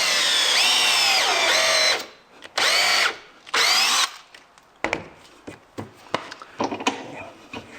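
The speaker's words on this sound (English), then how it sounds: "Got this clamped in and then drill away" Power drill boring through a clamped workpiece with a 5/16 drill bit, a loud continuous whine in three bursts, followed by short scattered knocks and handling clatter.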